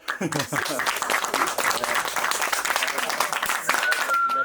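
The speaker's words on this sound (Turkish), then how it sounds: "Bravo, alkış." An audience at a community gathering claps in a lively, uneven patter that runs throughout, with a voice talking over the applause in places.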